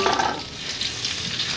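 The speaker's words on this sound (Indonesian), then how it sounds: "Ini pertama-tama kita goreng dulu si apa kacangnya ya." Peanuts frying in cooking oil and margarine in a pan, a steady bright sizzle with stirring scrapes throughout, close and fairly loud, no talk.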